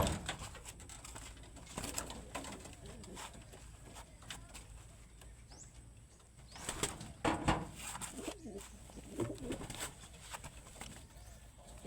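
Pigeons kept as racing flyers coo softly in a loft, with occasional wing rustles and bird calls over a steady low background hum, no clear talk.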